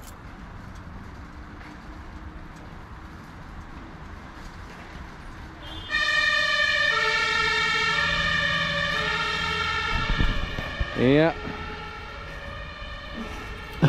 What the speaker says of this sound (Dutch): Een brandweerwagen. Op weg naar een dienst.